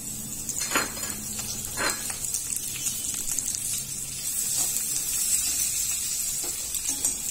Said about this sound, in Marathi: आता ह्याकडे तेल टाकते आणि कांदा परतून घेते छान लालसर